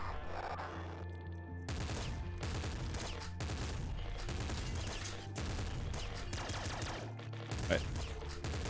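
Rapid bursts of assault slugger gunfire in the video game Nuclear Throne, repeated blasts packed close together and fairly loud against game music and effects.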